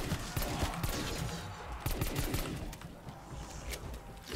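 Rapid, dense bursts of upgraded shotgun fire from Call of Duty Cold War Zombies crackle continuously, with overlapping blasts and mid-range impacts stacking into a busy, chaotic barrage with no voices.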